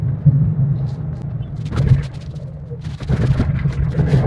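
A car drives along the potholed Mumbai–Goa highway near Kolad, giving a steady, loud low road-and-engine rumble throughout, with brief bumps and thuds where the wheels meet uneven patches.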